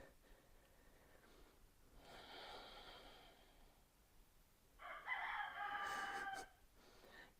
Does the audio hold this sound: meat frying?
no